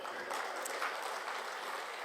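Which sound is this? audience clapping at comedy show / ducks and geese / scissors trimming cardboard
audience clapping at comedy show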